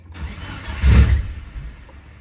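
A modified Subaru Forester STI engine, tuned with retarded timing and a raised idle, running briefly: a single low swelling rumble that peaks near the middle and settles back, close and loud, with no speech.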